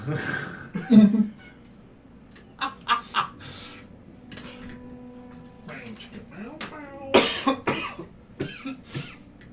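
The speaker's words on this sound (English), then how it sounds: "I'm sorry for the coughing." Several harsh, close coughs from a person with a dust-irritated throat come in separate bursts, with quieter throaty vocal sounds in between.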